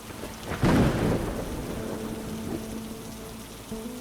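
Thunder rumbles through steady rainfall in a storm, a loud low roll swelling near the start and fading into the continuous patter of rain for the rest.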